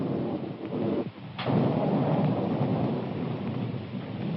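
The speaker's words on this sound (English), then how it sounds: "Storm coming up." A radio drama thunderstorm: steady heavy rain hiss with a sharp thunder crack about a third of the way in, followed by a rolling rumble under the downpour, no voices.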